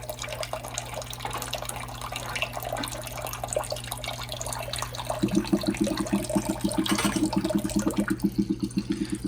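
Water runs into a bathroom sink with a newly replaced strainer and trap, a close splashing trickle over a steady low hum, turning into a louder rapid burbling as the basin fills.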